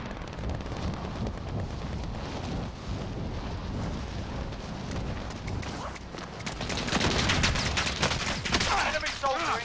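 Gunfire rattles in a Warzone match, with bursts of shots and heavier blasts that swell louder toward the end, mixed with voices and game noise.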